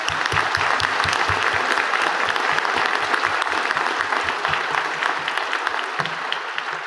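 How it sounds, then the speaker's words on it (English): A large audience applauds at a university convocation ceremony, dense continuous clapping at a strong, even level throughout with no talk over it. "I'm going to ask you to join me in a round of applause to acknowledge her achievement."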